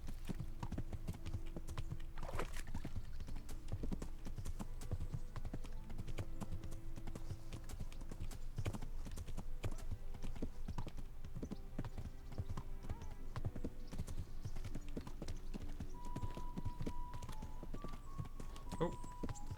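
Horse hooves clip-clop steadily through the whole stretch in the medieval video game Kingdom Come: Deliverance, with game music and ambience layered underneath and a few brief whinnies.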